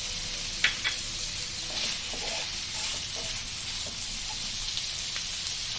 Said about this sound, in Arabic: انا دابا درت الدجاج غنزيد معاه شويه ديال الثومه